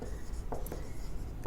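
Writing by hand during a Class 9 maths lesson, soft scratchy strokes in short bursts over a low steady background, with no one talking.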